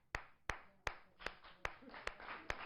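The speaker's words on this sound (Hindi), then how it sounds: "बजा ताली" Audience at a televised Hindi debate show claps in sharp, evenly spaced bursts, about seven distinct claps at a steady rhythm, close and clear.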